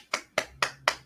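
Four sharp, evenly spaced claps ring out in a quick rhythm, close and fairly quiet, in a theatre setting.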